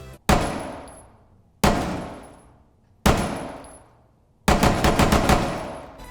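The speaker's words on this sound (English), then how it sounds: "That was the P226 MK25 that you heard being fired" Gunfire from a P226 MK25 pistol in Rainbow Six Siege: three sharp, loud single shots spaced over a second apart, each with a decaying echo, then a rapid burst of several shots.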